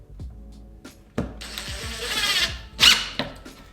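A screw driven into archway framing for a shower opening, a ratcheting drill clicking in quick bursts, a short whirring drive with a rising pitch, then a sharp squeak, close and clear with no talk.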